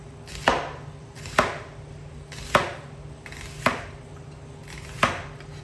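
A big knife chops slippery food on a board, giving five sharp, evenly spaced thwacks about a second apart, close and clear, with no talking.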